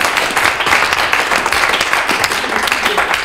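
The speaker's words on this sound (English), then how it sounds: "Give him a big round of applause." An evening workshop audience claps together, a dense, steady wash of applause at moderate distance that holds evenly for a few seconds.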